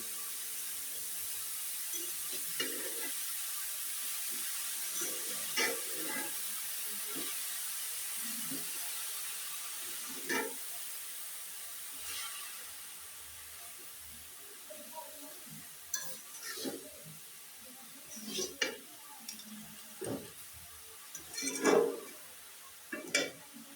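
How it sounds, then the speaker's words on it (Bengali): Salt being stirred into frying lentil greens (khesari shak) in a pan: a soft, continuous sizzle with scattered scraping and clinking from the spoon, growing busier toward the end, close and fairly quiet. "এখন লবণ আর শাক ভালোভাবে মিশিয়ে নেব"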